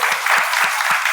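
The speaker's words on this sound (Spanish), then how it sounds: "Un aplauso para Juan Daniel Odiero" An audience applauds at a Spanish-language television program, dense steady clapping close and loud throughout.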